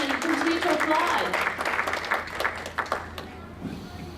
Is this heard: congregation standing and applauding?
yes